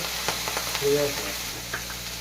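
Chopped onion sizzling in hot oil while egg chowmein is cooked, a steady close frying hiss with light stirring taps, and a voice briefly talking over it.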